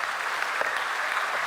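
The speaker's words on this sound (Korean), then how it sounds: "박수." Delegates at a Presbyterian church general assembly applaud, a continuous wash of many hands clapping in a large hall, steady and moderately loud throughout.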